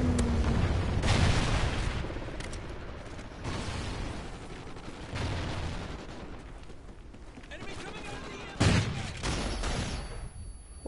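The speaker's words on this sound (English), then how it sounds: "Friendly Trinity rocket inbound." A Trinity rocket strike in a Minecraft-based game, with several heavy booming blasts and rumbling bursts spaced across the stretch, loud and close, with a voice talking between them.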